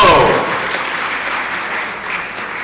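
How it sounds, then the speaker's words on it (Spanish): A crowd of students in an audience claps, starting with a loud burst of applause that gradually thins and fades over a few seconds. "Un fuerte aplauso, estudiantes"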